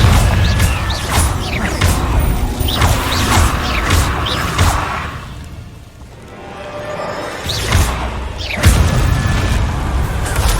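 Confringo fire spell in Hogwarts Legacy combat, giving several loud booming blasts with sharp cracks and whooshes that repeat through the fight, with a brief lull in the middle before more explosions burst out.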